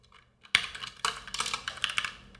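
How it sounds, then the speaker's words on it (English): Computer keyboard typing during a coding session: a quiet start, then a dense run of quick, crisp key clicks, close and continuous, with no talk. "I'm just typing it here"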